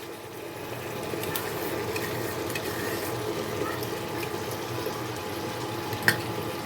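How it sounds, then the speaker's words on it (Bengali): A steady wet stirring hiss comes from jaggery and coconut paste being mixed with radish in a cooking pan, close and even, with one sharp clink near the end. "এখন আমি এগুলাকে একটু ভালো করে মিশিয়ে নেব এই মূলোর সাথে"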